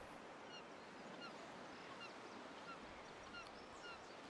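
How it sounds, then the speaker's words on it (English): Faint seagull calls cry intermittently over a constant wash of ocean surf on a simulated Cypress Point golf course at Pebble Beach, California, with no voices. "I like the seagull noises though."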